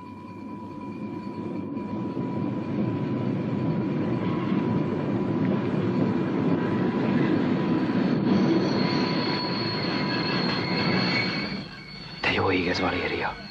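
Local train bound for Pisa, in a 1962 Italian film: a loud, continuous rumble of rail cars with wheel squeal and a steady tone, dropping briefly near the end before resuming, with voices underneath.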